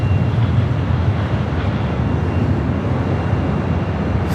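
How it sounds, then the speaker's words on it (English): A Boeing 747 on its north-side takeoff at Los Angeles International Airport gives off a steady, broad jet roar from a distance, mixed with some wind noise and holding an even level throughout. "We got the Queen heading up here for a north side takeoff"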